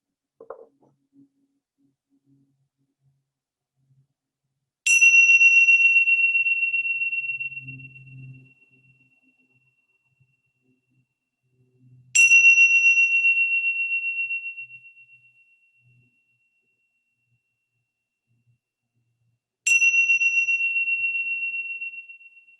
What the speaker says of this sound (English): just seeing if it's possible to listen to the bells fully, making it part of the meditation practice itself